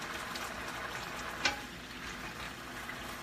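Garlic bubbles and sizzles in a pan on medium-high heat, a soft, steady crackling fry with one brief sharp clink midway, quiet and close with no talk.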